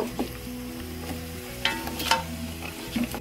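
Whole, uncut onions fry in a pot of oil for nihari, with a continuous sizzle broken by scattered louder crackles and spits.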